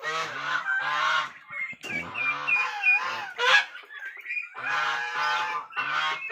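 Turkeys call loudly and close by in repeated bursts of harsh, honking gobbles, one after another with brief gaps.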